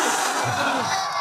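A large crowd at an Islamic religious gathering shouts together in a brief, loud, unified roar, sustained throughout with little variation.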